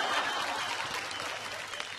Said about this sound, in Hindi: जोरदार तालियां बजाइए मेरे के लिए